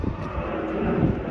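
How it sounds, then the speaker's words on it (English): A steady, low engine roar from a plane passing overhead in Windsor, England fills the scene, broad and continuous with no other sounds standing out. "the plane noise in this city is really something"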